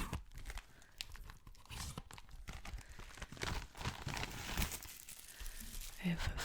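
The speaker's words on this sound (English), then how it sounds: "fancy cellophane." Fancy cellophane is crinkled and crumpled close up in bursts of crisp, rustling crackle, with a soft voice underneath at times.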